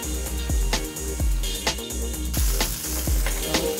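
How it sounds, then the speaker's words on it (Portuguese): Banana slices fry in butter in a pan, a steady sizzle punctuated by repeated soft clinks and scrapes of a utensil at a roughly regular pace. "Vou fritar aqui a banana. Assar aqui uma banana na manteiga."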